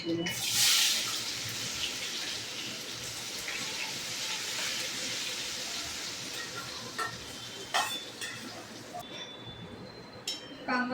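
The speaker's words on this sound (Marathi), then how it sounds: "कांदा छान गुलाबीसर परतून घेऊयात" Chopped onions sizzle in a pan with a steady hiss throughout, broken by a few scraping stirs and clinks of the utensil. A voice speaks briefly at the start.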